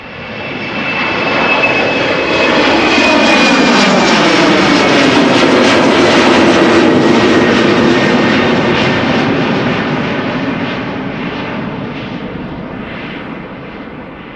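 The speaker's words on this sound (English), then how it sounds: "This is KLM flight 1855, Embraer 190 outbound to Düsseldorf." A KLM Embraer 190 jet departs Amsterdam Schiphol bound for Düsseldorf, its engine roar swelling in, holding loud and steady with a rushing, rumbling wash, then slowly easing as it climbs away.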